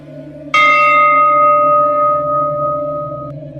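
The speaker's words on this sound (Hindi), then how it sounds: "घर में दाखिल होते ही मंदिर की घंटी अपने आप बजती है।" A temple bell in a house rings once on its own, a loud bright strike whose shimmering tone hangs and slowly fades over a steady low background hum.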